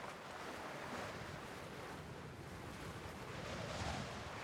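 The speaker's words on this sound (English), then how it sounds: "It's getting awfully windy out here now." Steady blustery wind rushing over open water, with a constant low roar of waves and buffeting on the microphone, no voices.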